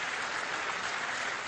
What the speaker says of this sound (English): Then a resounding ovation as the Palestinian leader entered the General Assembly chamber.